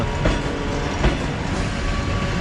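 A train rolls along the rails with a continuous loud rumble and a couple of faint clickety-clack beats, heard close and without voices.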